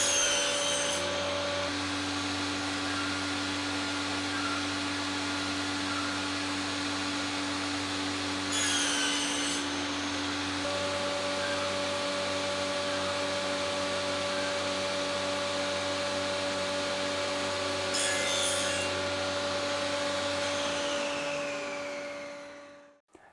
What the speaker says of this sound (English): clamping my 2 pieces of wood onto this brace and moving it back and forwards